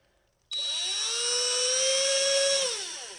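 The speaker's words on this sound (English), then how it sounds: "And then we're going to drill these very carefully." A high-pitched power drill, drilling holes in a cigar box guitar, whines up suddenly and holds a steady, loud tone for about two seconds before spinning down.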